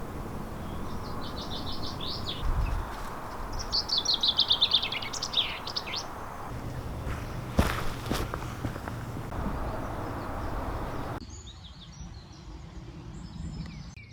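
Birds sing in bursts of bright chirps and trills at the start of an early spring morning at 5:20, fairly close, over a soft outdoor hush with a few footstep-like rustles and no talking.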